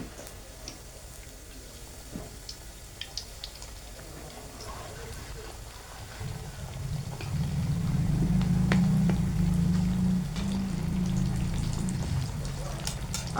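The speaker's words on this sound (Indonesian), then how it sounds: "Kita goreng lagi." Sticky rice (ketan) frying in a pan of oil; a quiet start gives way around the midpoint to a dense, steady sizzle that stays loud and close until the end.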